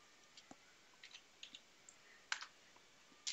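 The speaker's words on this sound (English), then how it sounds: "Here I'm just typing." A computer keyboard is typed on at a command prompt, sounding as quiet, sparse clicks and light key taps spaced irregularly across the moment, faint and close, with no talking.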